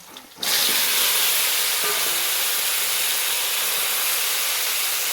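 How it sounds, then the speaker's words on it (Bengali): Vegetables sizzle loudly in a hot pan with spices for a vegetarian shukto, a steady hissing fry that bursts in after a quiet start and holds close and even throughout. "এটা ভালোভাবে একটু ভেজে নেব আমি।"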